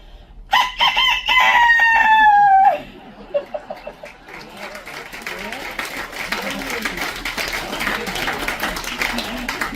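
A person imitates a red jungle fowl crow with a loud, drawn-out, cock-a-doodle-doo style call lasting about two seconds, followed by scattered clucks, laughter and audience noise.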